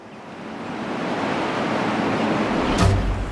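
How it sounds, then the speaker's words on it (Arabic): Sea waves rolling onto the Arabian Sea coast near Aden, a steady broadband wash of surf that swells slightly louder toward the end, with no voices. "احنا وصلنا على الساحل، بحر العرب"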